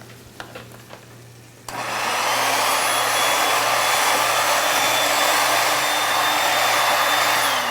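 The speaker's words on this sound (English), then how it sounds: "I have my immersion blender here. I'm just going to put that in there and actually blend it up nice and smooth." An immersion blender whirs steadily through a Moroccan beef kefta tagine sauce, starting abruptly after a few soft clicks and holding a loud, continuous motor drone to the end with no talking.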